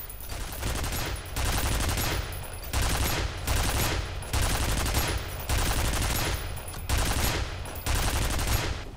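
Automated turret in the video game F.E.A.R. firing in sustained bursts of gunfire, several long volleys separated by brief pauses, loud and close with no talking.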